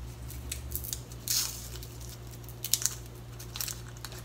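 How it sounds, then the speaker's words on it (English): Garlic cloves being peeled by hand in a kitchen, heard as brief dry papery crackles and skin snaps in a few short clusters close to the listener, over a steady low appliance hum and with no talking. "First, peel and mince garlic."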